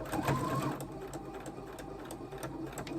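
A sewing machine back stitches a fabric face mask, running in a close, steady mechanical whir with a brief louder burst at the start and no talking.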